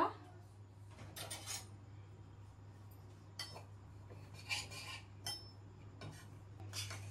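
Metal spoon clinks and scrapes against a pan as wheat semolina is stirred and lightly dry-roasted in a home kitchen, a few irregular bursts over a steady low hum, with no talk.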